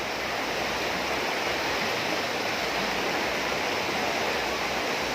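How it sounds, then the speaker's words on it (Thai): Rushing water at Bo Sai waterfall in Chachoengsao, Thailand, fed by water released from the Si Yat dam. It makes a loud, steady, close roar of strong flow that continues without a break. "บ่อทรายนี่ น้ำค่อนข้างแรง เรากำลังจะเล่นน้ำคลายร้อน"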